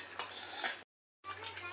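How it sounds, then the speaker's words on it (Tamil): Spoon stirring mashed moong dal into rice in a pot, a close scraping and clinking under a voice, broken by a short silent gap. "ஒரு அரை கப் அளவுக்கு சிறுபருப்பு வந்து வேக வச்சு மசிச்சு வச்சுருக்கேன், அதையும் இதோட கலந்துடலாம்"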